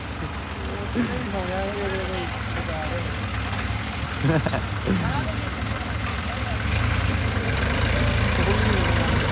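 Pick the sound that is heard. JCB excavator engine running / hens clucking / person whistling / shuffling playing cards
JCB excavator engine running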